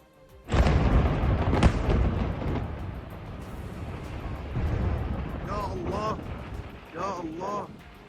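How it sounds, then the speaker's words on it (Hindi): A loud, sudden air-strike explosion erupts and rumbles on in residential southern Lebanon, followed by a long low roar with distant voices and high calls rising over the fading noise. "हवाई हमला होते ही जोरदार धमाका हो गया"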